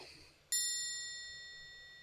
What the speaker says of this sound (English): I'm gonna start ringing the bell for every plug